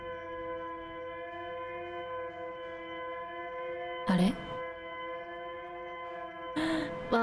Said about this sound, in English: Well, it's a distress beacon.